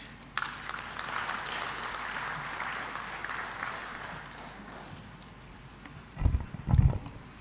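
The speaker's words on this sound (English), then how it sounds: "may I request a second round of clapping for guest of honor" Applause at a Tanzania and Uganda business forum: a crowd claps steadily at a moderate distance for several seconds before fading, followed by a couple of loud low thumps near the end.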